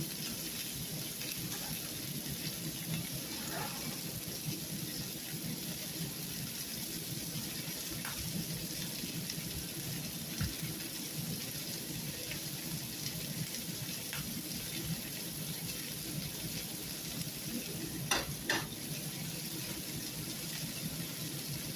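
A smash burger patty sizzling on a hot surface while pressed flat with a small cast iron skillet, a steady dense crackling hiss with occasional faint pops and scrapes throughout.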